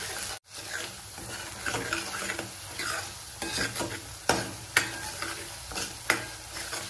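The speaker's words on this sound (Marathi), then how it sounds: "मसाला छान परतून होत आहे। त्याला छान तेल सुटायला लागलेलं आहे बाजूने।" Ground masala paste sautéing in oil in a pan for shev bhaji, a steady close sizzle under repeated spoon stirs and a few sharper scrapes against the pan.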